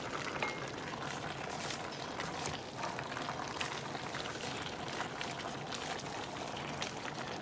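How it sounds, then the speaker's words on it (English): A pot of beer jambalaya cooking, a steady close bubbling and simmering with soft liquid pops throughout and no talking. "Well, the pot's cooking."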